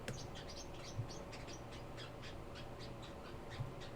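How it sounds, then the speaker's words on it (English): A small group of parrotlets keeps up rapid high-pitched chirping and chattering, evenly spaced and moderately quiet, with a low background hum and no voices. "The birds are parrotlets."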